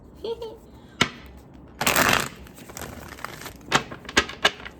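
Cards riffle-shuffled close up in a quick burst, with a few sharp snaps and taps as the deck is squared, amid quiet handling noise.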